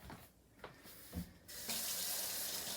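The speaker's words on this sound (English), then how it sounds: "So I'm going to start running my cold water." Tap water starts running into a sink after a few soft clinks, then a steady, hissing stream pours without pause.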